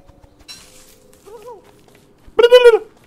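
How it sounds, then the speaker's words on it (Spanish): Turkey gobbling in the video game Don't Starve: a soft warbling call midway, then a loud, bright gobble near the end over quiet game ambience. "Ese es el pavo, ¿no?"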